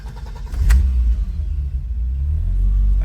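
A 1989 BMW 325i engine turns over and catches, settling into a steady low rumbling idle, close and continuous without talk.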